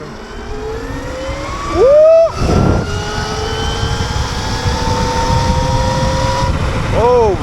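A Throne Cycle Serpent electric motorbike with new tires accelerates in hyper mode, a rising motor whine climbing in pitch over rushing wind noise, with a brief excited shout.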